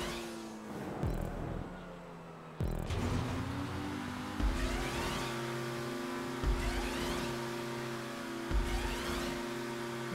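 Racing car engine in GTA Online, a steady droning hum with rising and falling pitch as gears shift, with faint whooshes and thumps over the run.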